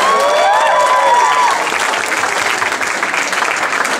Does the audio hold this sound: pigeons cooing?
no